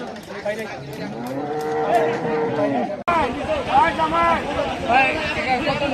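Cattle at the Hazratpur cattle market low with long, drawn-out moos, one after another, over a busy background of people talking and bargaining.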